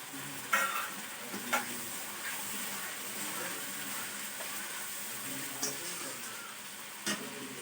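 Country chicken curry simmering on low heat with tomato and ginger paste, a steady, moderate sizzle and bubble close by, punctuated by a few brief clinks and taps from a utensil against the pot.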